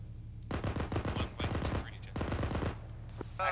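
Rapid automatic gunfire in Arma 3 comes in three dense bursts at close range, each a rattling string of shots, with short pauses between them.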